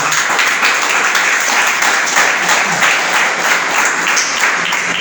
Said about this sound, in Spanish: ¿Cuánto le damos un aplauso al Señor?